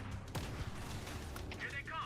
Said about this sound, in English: I think the sniper rifle actually lacks some of that oomph.